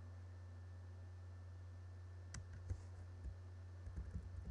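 Computer keyboard keys are pressed in a few scattered clicks, then a faster cluster of taps, faint and close over a steady electrical hum.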